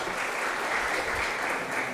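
Audience applause for a speaker at a biotech skilling programme session, a dense, even burst of clapping that holds steady for about two seconds.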